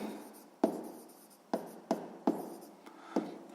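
Pen or marker strokes on paper while a math exercise solution is written out, five or six sharp taps with scratchy trailing strokes in an irregular rhythm, close and fairly quiet, with no talking.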